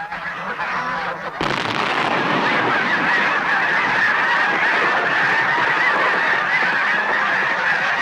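A large flock of netted Canada geese honking loudly and continuously, a dense overlapping chorus that swells suddenly after a quieter start.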